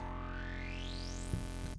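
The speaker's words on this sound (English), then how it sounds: "So we have another mono moog sound, similar to the previous one." A sustained monophonic synth tone with a sweeping, whooshing flanger effect that rises steadily in pitch, then cuts off abruptly.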